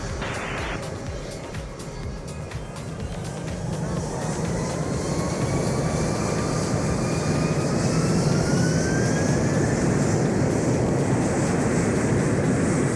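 A JetBlue jet airliner taking off from runway 11 at Queen Beatrix International Airport in Aruba, its engine roar building steadily into a loud, sustained rising whine heard up close.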